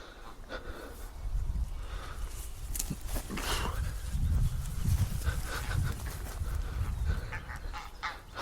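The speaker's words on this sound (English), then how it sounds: "It's a family of geese, 2, 4, 6, 8 adults, and about 20 little chicks" A family of geese, several adults with many small chicks, honking by pools at the edge of fields beside a wood, with scattered nearby honks and calls over outdoor rustle and low rumble.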